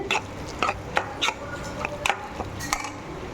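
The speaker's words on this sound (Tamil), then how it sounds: "இப்போ இதெல்லாம் நம்ம போட்டு நல்லா சிம்லேயே போட்டு வதக்கிக்குவோம்" Masala for a crab and raw banana curry sautéing in a pan on low heat, with a spoon repeatedly clinking and scraping against the metal in an irregular rhythm over a faint background hiss.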